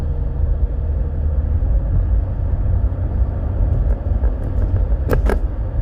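A Mercedes W210 E300 turbodiesel driving along, its steady low engine and road rumble continuous and fairly loud, with a couple of brief faint clicks near the end.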